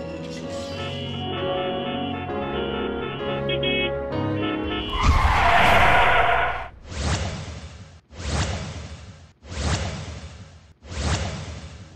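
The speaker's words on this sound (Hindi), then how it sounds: "अचानक गाड़ियों के ब्रेक लगाने की आवाज सुनकर सब चौंक कर देखते हैं" Road vehicles brake suddenly, and a loud, broad tire skid is followed by four more rhythmic whooshing skids or swishes. Tonal music plays at the start before the first skid.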